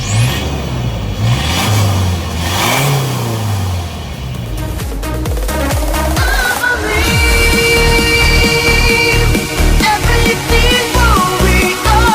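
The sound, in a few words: 2023 Isuzu D-Max X-Terrain pickup engine accelerating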